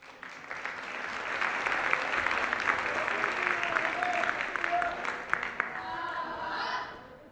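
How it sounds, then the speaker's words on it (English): An audience at a Celebration 2024 event applauds a group invited to the stage, a sustained wash of clapping from a large crowd with a few whoops and voices rising over it before it fades. "give them a round of applause"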